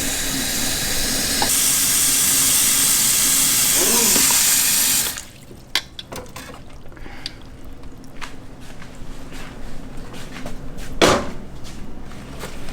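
A pot of Belizean tamales on the stove gives off a loud, steady hiss of steam and bubbling for about five seconds. It then drops to quieter clattering and handling noises around the stovetop.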